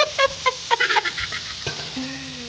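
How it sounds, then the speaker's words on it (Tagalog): Garlic hitting melted margarine in a pan for beef kaldereta, with a quick run of clattering stirs and taps up close over a soft sizzle, followed by a lower tonal sound near the end. "Ilagay ang margarine at ang bawang."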